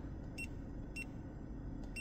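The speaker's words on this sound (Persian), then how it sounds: "آلارم هاشو که باتریتون از چه ولتاژی اومد پایین تر آلارم بده" A smart multi-gauge car display sounds its low battery voltage alarm as short electronic beeps, three evenly spaced chirps over a steady low engine-like hum.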